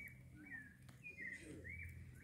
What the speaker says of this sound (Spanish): ya los pajaritos ya también empiezan a cantar ya